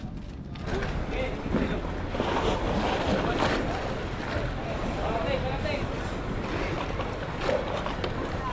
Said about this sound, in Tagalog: dito na naman sa bangka papunta.